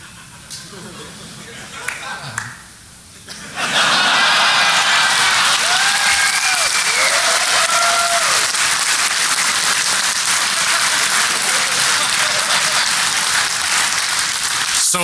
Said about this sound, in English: Let's make applause show up on that screen.